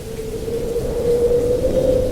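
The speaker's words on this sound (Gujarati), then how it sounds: "જોરમાં પવન અને વરસાદ" Strong wind and rain blow through at the start of a sudden storm, giving a continuous rushing hiss that swells slightly toward the end, with a thin steady tone beneath it.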